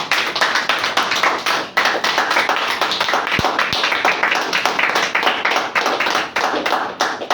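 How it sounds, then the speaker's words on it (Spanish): Church congregation claps together during a sermon, a dense, steady run of many hands with a few sharper individual claps, loud and continuous with faint voices beneath. "Denle un aplauso al Señor."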